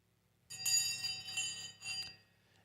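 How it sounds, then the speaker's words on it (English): A bell rings at a stock-market close, a sustained bright metallic clang with shimmering overtones that starts abruptly, swells and fades over a couple of seconds, heard alone at moderate distance. "It's Fisker on the bell,"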